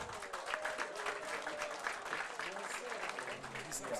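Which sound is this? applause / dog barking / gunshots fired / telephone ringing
applause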